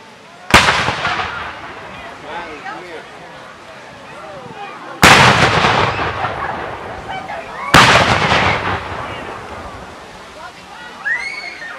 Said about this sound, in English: We see this federal artillery open fire.